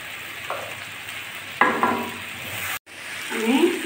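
Water is poured into a pan of spiced mustard egg curry, setting off a sudden loud sizzle that fades into a steady bubbling hiss, with a softer burst later on.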